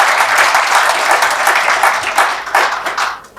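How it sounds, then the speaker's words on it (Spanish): An audience in a constitutional dialogue program applauds, dense steady clapping throughout that thins slightly toward the end, with no voices. "Un aplauso para nuestro programa"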